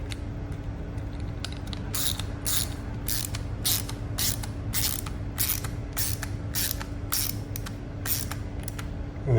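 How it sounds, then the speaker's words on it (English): A small torque driver turns screws into a Wahl Super Cordless clipper head, giving steady rapid ratcheting clicks in a regular rhythm close up over a faint background hum. "Here's a little torque driver we use. Just carefully screw them in."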